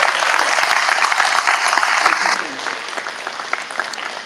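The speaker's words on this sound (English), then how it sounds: "Can we please give all of them a big round of applause?" Families and guests at a school honors night applaud loudly for a couple of seconds, then the clapping thins into scattered claps as it dies away.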